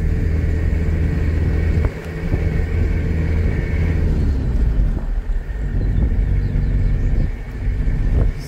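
A pickup truck driving straight along a road, heard from inside as a steady loud engine and road rumble with a sustained tonal hum and some wind buffeting, running continuously without talk.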